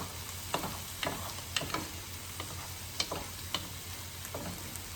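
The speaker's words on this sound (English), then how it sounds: "Just give it a little stir there." Utensil stirring food in a pan on the stove beside cooking rice and peppers, a soft steady sizzle underneath with several sharp scraping clicks spaced irregularly, close and moderately quiet.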